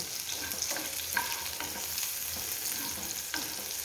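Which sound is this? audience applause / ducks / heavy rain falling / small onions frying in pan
small onions frying in pan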